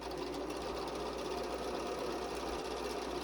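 Steady, continuous hum and rapid needle chatter of a sewing machine stitching down both sides of quilt pieces, running without a break at close range.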